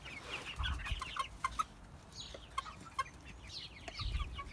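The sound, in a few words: mixed-age flock of chickens clucking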